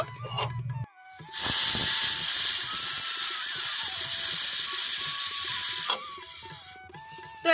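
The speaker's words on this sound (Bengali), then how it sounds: "এখন কিন্তু আমি এখানে দুটো সিটি দিয়ে দিয়েছি" Pressure cooker on a gas stove letting off a loud sustained whistle of hissing steam lasting about five seconds, with quieter mechanical tones before and after.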